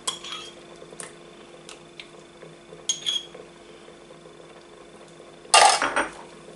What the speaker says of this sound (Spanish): Lo mezclamos bien